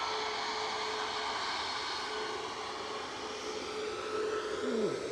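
A FedEx cargo plane departing Manchester Airport for Indianapolis, its jet engines giving a steady, distant broadband roar that swells slightly toward the end as a tone sweeps downward.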